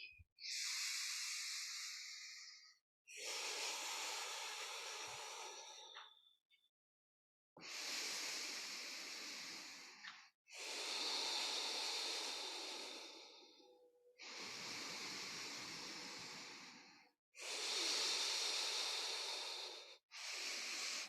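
Slow, deep yoga breathing, each long airy inhale and exhale rushing close to the microphone in an even rhythm of about seven breaths, with short quiet gaps between them.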